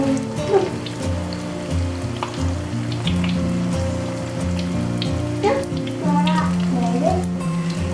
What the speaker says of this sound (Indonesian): Gorengnya menggunakan api kecil saja atau api sedang boleh.